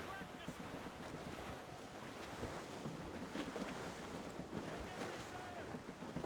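Steady wind at sea in the Assassin's Creed Rogue game, a constant rushing roar with washing surf and creaking sailing-ship noise, fairly faint and unbroken with no voices.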